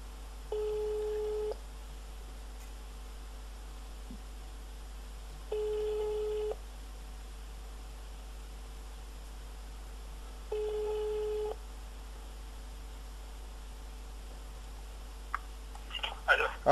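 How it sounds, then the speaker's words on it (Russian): A telephone call rings out on a phone line with three evenly spaced ringback tones about five seconds apart. A faint line hiss sits between them and a brief rustle comes at the end. "попробуем позвонить им"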